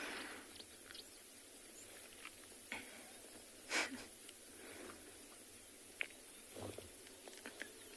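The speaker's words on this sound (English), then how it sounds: "I think I actually heard one chewing there." A wild animal chews faintly at a distance during an early-morning safari drive, with scattered soft crunches and clicks over quiet outdoor ambience.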